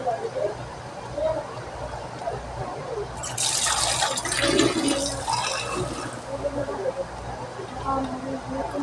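A little water is poured into a pot for cooking tilapia paksiw, a short gushing splash that rises midway and then tapers off, close by, with talking heard through it.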